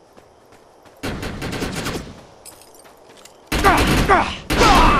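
Loud, rapid automatic gunfire in the Defiance video game comes in several separate bursts between quieter gaps, and a voice briefly exclaims over the shooting.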